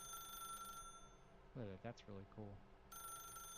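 Telephone ringing in the video game The Stanley Parable, faint electronic ring tones at the start and end with someone talking over the middle stretch.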